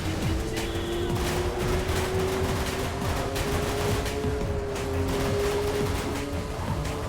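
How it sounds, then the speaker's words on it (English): Vehicle-mounted guns on a car in the racing combat game Full Auto 2: Battlelines fire in a steady, continuous rattle over the constant drone of an engine and road noise, loud and unbroken throughout. "I didn't know I could just shoot stuff."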